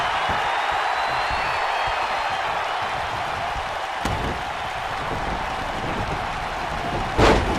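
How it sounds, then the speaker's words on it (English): A virtual arena crowd in the wrestling video game WWE 2K19 roars in a dense, continuous wash of cheering that holds steady throughout, with a brief thud partway through and a sharper burst near the end. "Listen to this crowd."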